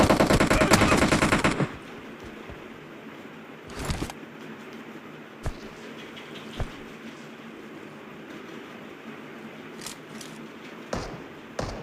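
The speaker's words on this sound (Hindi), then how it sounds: "तभी मेरे पर बहुत खतरनाक वाला फायर होता है।" Gunfire in the mobile game PUBG Mobile: a rapid automatic burst rattles loudly for under two seconds, then a few isolated sharp shots and thuds follow sparsely over a quiet background.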